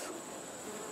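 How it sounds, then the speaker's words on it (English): Honeybees in a hive that is rejecting a newly introduced queen, a dense, steady, agitated buzzing close by with no voices. "this is how the bees act when they do not accept the queen bee"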